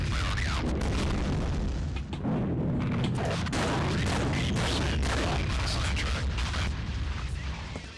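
Loud, dense rumbling blasts and booming explosions from a ZX Spectrum video game roll almost continuously, with sharp bursts layered over a constant heavy low roar.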